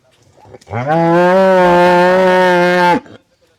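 A dairy cow at a cattle market gives one long, loud, close moo lasting about two seconds, steady and resonant, with faint background noise before and after.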